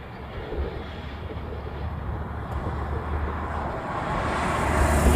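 A Japan Airlines airliner passing at an airport, a broad, rushing jet roar that swells steadily louder over a few seconds, heard from a spotting position with no talk.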